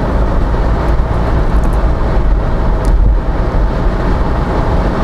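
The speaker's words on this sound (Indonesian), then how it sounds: "si ban Dunlop Grand Track ini berisik menurut saya" Dunlop Grand Trek tyres roaring on the road, heard from inside a moving car as a steady, dense low rumble with wind noise, loud and unbroken.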